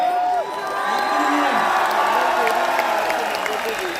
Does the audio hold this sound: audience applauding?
yes